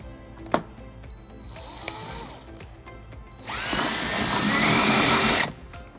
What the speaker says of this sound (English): we're going to drill our first hole.